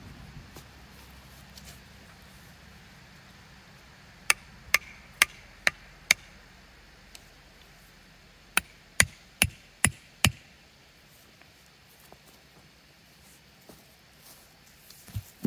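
Back of an axe head hammering a stake into the ground for tree planting: two bursts of five sharp, evenly spaced knocks, close and distinct against quiet outdoor background, with a few softer taps afterward.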